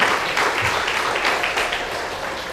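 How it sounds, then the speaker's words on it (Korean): A church gathering's audience claps in thanks after a sermon, a brief burst of loud, dense applause sustained evenly throughout. "우리 감사의 마음 박수 한번 칠까요?"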